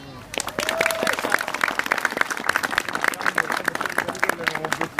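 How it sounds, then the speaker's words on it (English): A street performance crowd applauds and cheers outdoors, brisk overlapping clapping close by, with a raised voice and whoops mixed in above the clatter. "can you just show me right now with a round of applause?"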